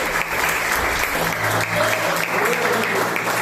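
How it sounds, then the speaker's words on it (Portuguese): A church congregation bursts into enthusiastic applause during a worship service, dense clapping filling the room steadily for several seconds without speech. "dá uma salva de palmas com alegria para Jesus"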